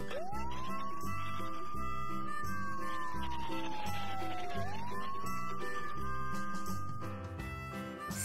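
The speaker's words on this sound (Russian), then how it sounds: "Полицейская машина." A police car siren wails in long rising and falling sweeps over a low engine hum, fairly loud and steady, then fading near the end.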